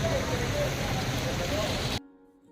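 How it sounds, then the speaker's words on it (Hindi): Heavy rain drums down on a market street in Rampur in a loud, steady wash for about two seconds, then cuts off abruptly and leaves only a faint hum. "बहुत ज़्यादा तेज़ बारिश हो रही है"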